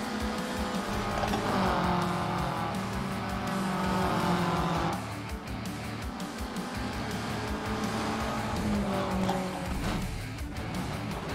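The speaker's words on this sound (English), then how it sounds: "my car just kept sliding" A rally car in the racing game Gravel slides across loose gravel, its engine droning steadily with tire scrubbing and surges of revving throughout, loud and close without any talk.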